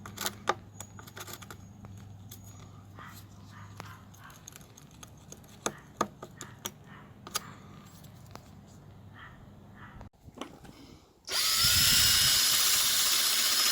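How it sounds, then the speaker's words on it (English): A wire wheel chucked in a power drill scrubs rust off a badly corroded screw head on a PVC bike trailer, a loud sustained whirring grind arriving near the end after quieter clicks and handling noises. "Not much that a wire wheel can't fix."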